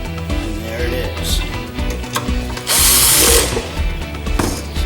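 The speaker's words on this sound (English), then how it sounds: "We're adding 5 screws to this thing." A power driver sinks screws into a Gungnir multibit build, giving short whirring bursts and clicks amid handling noise, with one louder, longer buzz near the middle.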